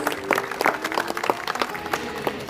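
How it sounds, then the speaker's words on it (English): An outdoor zoo audience gives scattered, light applause after a crane flies off during a bird presentation, uneven claps at moderate distance with no talking. "Give her a round of applause."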